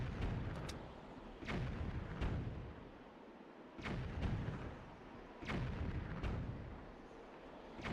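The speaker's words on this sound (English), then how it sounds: "The whole shooting bombs at me while I'm sidling across a wall thing really is throwing me" Bombs fired at the player while sidling along a wall in The Legend of Zelda: The Wind Waker, heard as a run of heavy booming thuds and blasts spaced a second or so apart over continuous game background noise.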